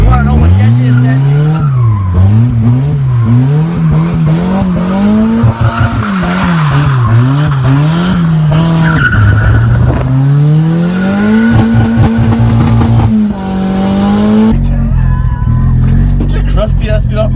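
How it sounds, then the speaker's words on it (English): Nissan 350Z drift car revs hard with a loud, close engine note rising and falling repeatedly, mixed with sustained tire squeal and skidding throughout. "we're riding an Aaron's fucking race car, fuck, or a drift car. This car is sketchy"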